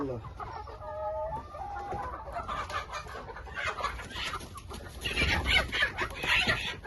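Young Ataks pullet hens delivered to a farm in Aydın cluck steadily, with a few clear calls early on, then become a dense, busy flock chorus that grows louder toward the end.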